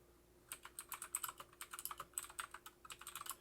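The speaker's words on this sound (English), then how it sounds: "You can hear my keyboard" Fingers tap quickly on a computer keyboard, a faint run of light, uneven clicks clustered in short bursts.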